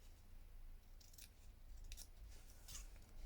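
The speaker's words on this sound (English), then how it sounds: "trim off the excess fabric." Scissors snip off excess fabric on a handmade notelet, three quiet crisp cuts spaced about a second apart over a low hum.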